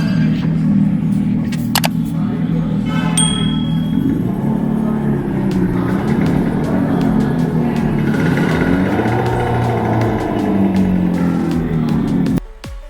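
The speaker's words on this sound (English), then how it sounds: "this is the button for the exhaust note" Steady artificial exhaust note from a Revolt RV400 electric motorcycle, a loud continuous low synthetic engine drone with slight pitch swells and a few clicks, cutting off abruptly near the end.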